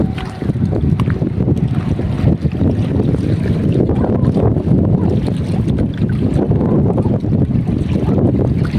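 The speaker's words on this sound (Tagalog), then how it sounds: "Ah, lakas ng hangin." Strong wind at a fishing spot roars and buffets the microphone continuously, a loud low rumble with faint water sounds beneath.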